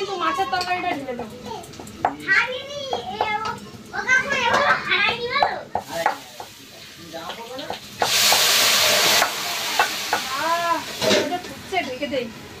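Meat curry is poured into a hot pan after fish frying in a busy home kitchen, giving a loud hissing sizzle that swells midway while adults and children chatter throughout.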